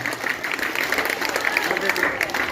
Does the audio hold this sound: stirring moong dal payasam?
no